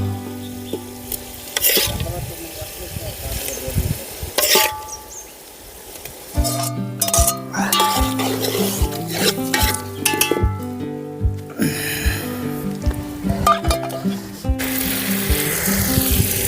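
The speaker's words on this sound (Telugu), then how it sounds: "ఫ్రై చేసుకుని మష్రూమ్ని దీంట్లో ఇప్పుడు వేసుకుందాం." Mushrooms for biryani frying in a pan with yogurt, loud close sizzling broken by repeated scraping and clinking of a spatula stirring, with some quieter gaps between bursts.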